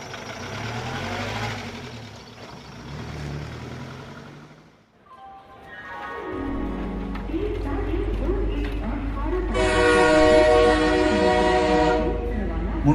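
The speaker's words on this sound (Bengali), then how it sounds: "মন্টু জানে যে ট্রেন যখন ছাড়লো" A train pulls out of a station as a sound effect in a Bengali audio story: a rumbling rail run with a sustained horn-like tone, playing under a narrator's voice.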